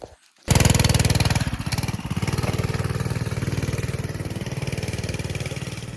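Dirt bike engine starts abruptly and runs loud and close while riding, a fast pulsing buzzy rattle that holds steady with slight changes in revs.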